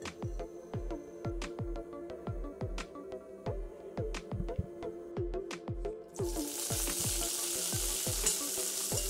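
Wild garlic fries in vegetable oil in a pan over high heat, sizzling steadily with regular sharp clinks throughout, then the frying hiss grows louder and denser toward the end.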